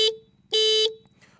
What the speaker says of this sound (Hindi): हॉर्न तो यार काफ़ी लाउड है